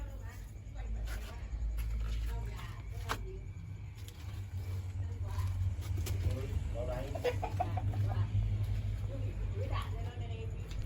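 Chickens cluck at a plain shed-like coop, their scattered calls fairly faint over a steady low hum and background noise, with occasional voices.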